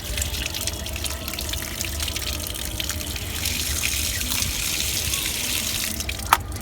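Tap water runs steadily over a motherboard being washed in a sink, a continuous broadband splash with a brief sharp drip near the end.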